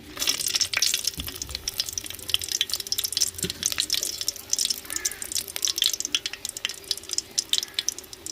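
Dried vathal chillies dropped into hot oil in a home kitchen give a loud, dense crackling sizzle with sharp spits and pops throughout, and no voices.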